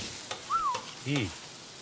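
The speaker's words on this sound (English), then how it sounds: "Look at that sizzle." A sub sizzling on a flat restaurant grill at Jersey Mike's, heard as short, faint bursts of frying hiss with a couple of light scrapes and tones in a quiet room.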